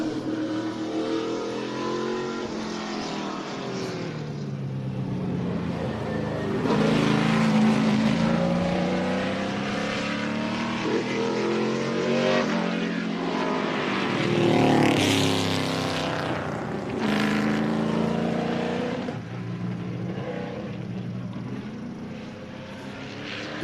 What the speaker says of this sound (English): the Brad Keselowski car run, this was an engine called the R5 P7.